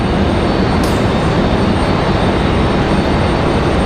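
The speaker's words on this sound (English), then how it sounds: "So the A321 off to Charlotte as we wait for our 787-9." An American Airlines A321 jet roars on its takeoff roll, a loud, steady, broadband engine rumble that holds constant and close throughout, with no voices.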